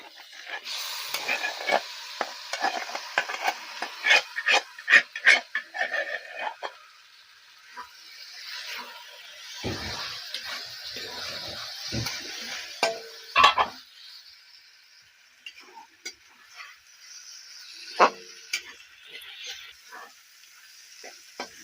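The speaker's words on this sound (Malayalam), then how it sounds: "ഇങ്ങനെ ഇളക്കിക്കൊണ്ടിരിക്കണം ഇതിനകത്തിട്ട് വഴറ്റിയെടുക്കണം" Cooked vegetable pieces sautéed with cumin in a pan for Kerala kurukku kalan, stirred steadily with scraping and light sizzling, busy at first and then thinning into sparse taps and quieter frying.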